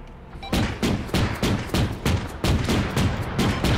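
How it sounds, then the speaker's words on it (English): Repeated gunfire in ARMA 3 during a headquarters assault, with about seven heavy shots cracking in a steady rhythm roughly every half second. The shots are loud and close, and each one leaves a booming tail. "On top of the building is shooting."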